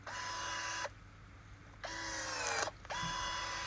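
An Einhell 18V cordless electric pruning shear whirs in three loud motor bursts, working through a branch about an inch thick, with brief quiet gaps between the pulses.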